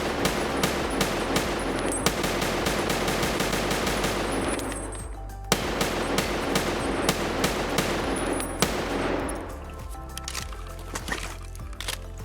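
An ADAR rifle fitted with an EOTech sight fires in Escape From Tarkov: two long, rapid automatic bursts of sharp, loud shots, the second trailing into echoing tail and a few faint clicks.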